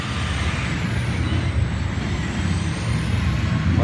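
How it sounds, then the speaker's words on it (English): Truck rumbling past nearby, a loud low engine roar with a faint high whine, building slightly and holding steady, no talk. "Wait for the truck to go by."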